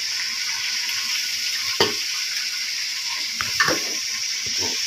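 Oil sizzles in a large kadai with a steady, moderate frying hiss, broken by a few sharp clicks and clatters of a utensil against the pan.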